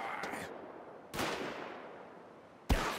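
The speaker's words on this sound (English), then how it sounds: "Wait, you're shooting at me." Gunfire in the video game Wolfenstein: The Old Blood, two or three sharp, loud shots spaced apart, each decaying quickly.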